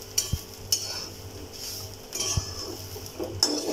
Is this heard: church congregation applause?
no